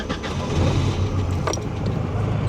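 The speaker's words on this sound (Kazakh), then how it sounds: "Оталдырып көрейік, дыбысын естейік" A German car's engine catches and settles into a steady low idle close by, a continuous rumble with a brief rattle midway and no talking.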